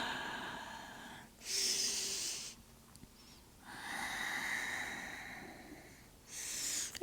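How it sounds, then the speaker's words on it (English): Slow, easy breathing during a gentle yoga stretch, with three long airy breaths sounding close and soft, separated by quiet pauses. "Just a few easy breaths here."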